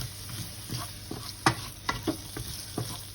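Quiet sizzling of onions in a pan over medium heat, with a few soft scraping stirs and small pops scattered through it.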